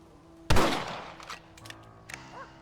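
A rifle fires once in a Red Dead Redemption cutscene, a loud close crack that rings and fades, followed by a couple of faint distant pops and a brief voice.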